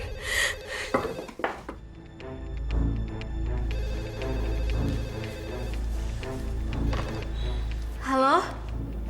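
A telephone rings in a dramatic scene, its bell-like tones sounding repeatedly over a bed of music and background sound, with a voice briefly audible near the end.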